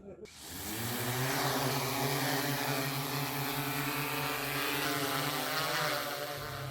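Thermal drone flying over the eruption zone of Mount Semeru in Indonesia, a steady whirring propeller drone that rises in and then holds a loud continuous buzz.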